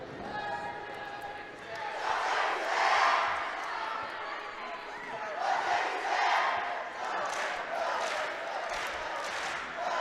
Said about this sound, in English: Grandview Christian with a nice loud student cheering section